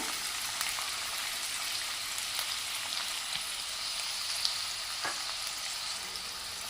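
Whole garlic cloves, a piece of ginger and chopped onion fry in hot oil in a pan for a curry leaf chicken curry, producing a steady, even sizzle throughout with no talking.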